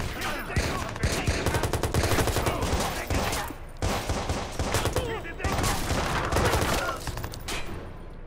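Loud sustained automatic gunfire from the video game Watch Dogs, dense overlapping volleys with short breaks between bursts.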